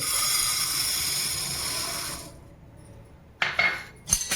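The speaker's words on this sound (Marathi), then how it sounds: "पॅनमध्ये आपल्याला साबुदाणे भाजून घ्यायचे" Sago pearls dry roasting in a pan over a gas flame make a steady sizzling hiss for about two seconds. Then the pan goes quiet, with a few sharp clinks and scrapes of a spoon stirring near the end.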